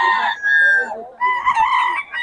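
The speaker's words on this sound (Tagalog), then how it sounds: "Magaganda manok na ito." A rooster crows loudly and close by at a chicken market in Bocaue. Two drawn-out calls come a moment apart, against a busy market background.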